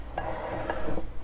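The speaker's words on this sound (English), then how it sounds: "So I'm just gonna give these a nice stir." A utensil stirs beaten eggs with milk in a bowl, or breadcrumbs mixed with Parmesan, giving a few soft clinks and scrapes against the dish over a quiet background, close by and brief, with no talk.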